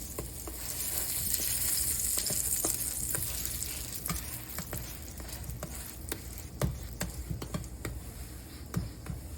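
Cheddar-filled naan sizzles steadily in a frying pan as it is flipped, with a dense crackle broken by a few sharp scrapes and taps near the end, and no voices.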